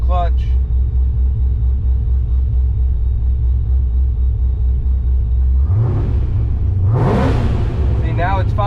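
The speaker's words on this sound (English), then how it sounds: "if I let it sit here and idle for another minute or two, eventually it'll just come back on its own and let me rev this thing up" A boosted Pontiac GTO engine rumbles loudly at a steady, lumpy idle, then is blipped up in a couple of sharp revs near the end, with a voice talking over the engine noise.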